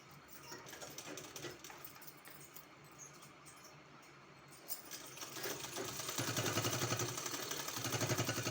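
A sewing machine stitches a 1.5-inch strip onto a kurti hem, a faint, uneven whirring that starts and stops in short bursts before settling into a louder, steady run near the end.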